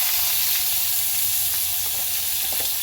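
Chopped onion frying in a little oil in a pan while chow mein is being made, a steady close hiss and sizzle with a few faint stirring scrapes.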